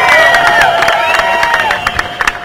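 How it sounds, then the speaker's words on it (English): A protest crowd at an American Legislative Exchange Council meeting claps and cheers loudly, with scattered hand claps mixed with raised voices and whistle-like tones throughout. "give yourselves a round of applause for the unison"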